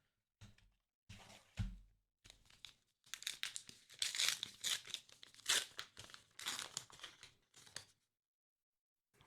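A Star Wars Unlimited card pack's foil wrapping is torn open and crinkled up close in quiet surroundings, making several bursts of sharp crackling and ripping separated by brief pauses.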